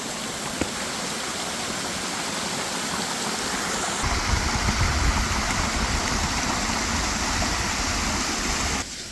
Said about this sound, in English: The creek actually runs down and then goes into that hole.